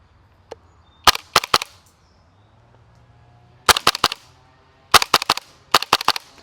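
A Wellpro PPK20 AK-style airsoft gas blowback rifle fires BBs in sharp, close bursts of three to five rapid cracks, separated by short quiet pauses.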